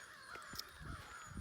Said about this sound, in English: there's crows back there you could probably hear